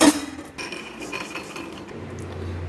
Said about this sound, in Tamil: இப்போ இதை பாத்திரத்துக்கு மாற்றிக்கலாம்